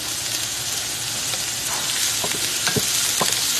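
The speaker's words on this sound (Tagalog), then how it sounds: "Ginigisa ko po yung parang pangat." Ginger, onion and garlic sauté in a hot pan with a steady, close hiss of frying and a few sharp stirring scrapes toward the end, with no voices.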